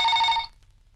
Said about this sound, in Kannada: ಸವಿತಾ, ಫೋನ್ ತಗೊಮ್ಮ